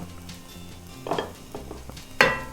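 Lean smoked bacon frying in a pan with butter added, a soft steady sizzle with a few light scrapes and clinks of a utensil against the pan.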